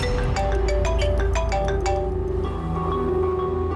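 A melodic electronic phone ringtone plays a repeating series of bright tones over a low background hum, then fades into room noise.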